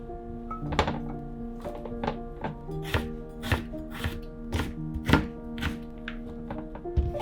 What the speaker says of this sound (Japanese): 人参をピーラーか包丁で千切り。